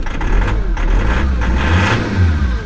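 A 2.2 diesel car engine idles in freezing conditions with a faulty injector, running close and steady with a continuous low rumble and a slight uneven beat.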